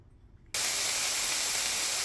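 After a brief quiet moment, a loud steady sizzling hiss starts abruptly and continues as chopped onions hit a hot pan.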